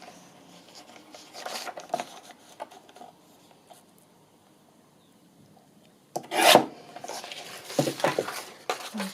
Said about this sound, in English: I'm just going to trim off that white bit.